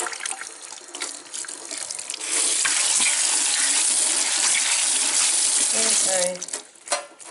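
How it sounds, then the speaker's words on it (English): A tap runs steadily into a sink while small fountain pen parts are rinsed under it, the flow loud and close, briefly interrupted near the end as the parts shift, with some faint handling noise. "Just give it a rinse"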